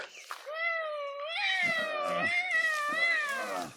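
A cat lets out a long, drawn-out wailing meow, loud and close, its pitch rising and falling over several seconds with no other sound around it.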